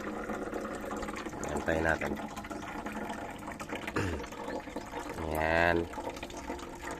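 Water runs steadily through a Dutch bucket hydroponics setup during a drip and leak test, filled with nutrient solution from a reservoir pump. A continuous, close flowing wash sits under two short bits of speech.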